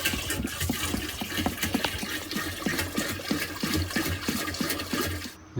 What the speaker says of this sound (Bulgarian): Ето и водата, която сега ще си налеем първо.